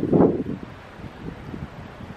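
Wind gusts buffet the microphone with a loud rumbling burst at the start, then settle into a steady low roar.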